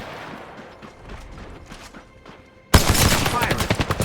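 Video game gunfire breaks out suddenly partway through as a loud, dense burst of rapid overlapping shots that continues to the end, after a quieter stretch of faint game ambience and some voices.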